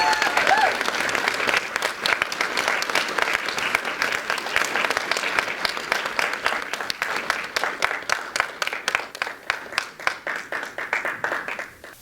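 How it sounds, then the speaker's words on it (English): A crowd applauds steadily for several seconds at a Table Topics speech contest, dense clapping that thins toward the end into scattered individual claps. "please give our contestants one more round of applause."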